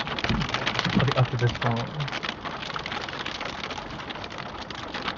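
Hail falling on a car during a driving lesson, a dense patter drumming steadily on the vehicle throughout while a person speaks briefly near the start.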